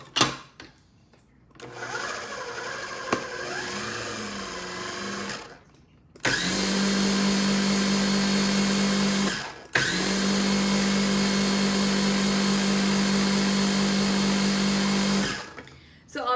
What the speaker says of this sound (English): I'm gonna add the toasted sesame seeds in my food processor and give them a whiz